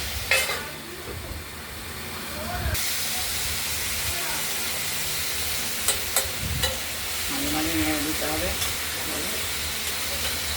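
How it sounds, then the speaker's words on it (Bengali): Fresh ridge gourd sizzles in a wok as its released water steams off, a continuous hiss and crackle broken by occasional stirring clatter, with a voice talking softly now and then over the cooking. "ঝিঙেগুলো টাটকা বলে জল বেরোচ্ছে জলটাও শুকোবে ঝিঙেটাও সেদ্ধ হবে"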